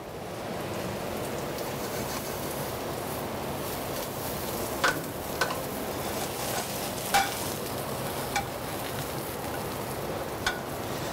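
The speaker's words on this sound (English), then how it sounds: "I'm gonna saute the mushroom separate." Mushrooms being sautéed in a pan: a steady, dense sizzle like light rain runs throughout, broken by a few faint spoon clicks, close and moderately loud, with no voices.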